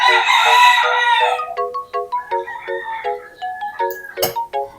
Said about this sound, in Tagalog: sorry dahil may manok nga kami dito